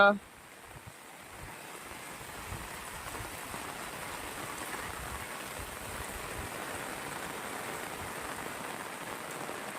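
Heavy rain pours down steadily over a village home, a dense, loud, unbroken hiss of water hitting surfaces that holds constant after a brief opening thump.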